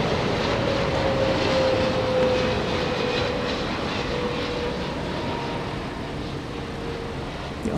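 A Boeing 777 jet airliner passes at night at DFW airport with a loud, sustained roar and a gliding tonal whine that slowly falls in pitch, easing slightly toward the end, with no voices over it.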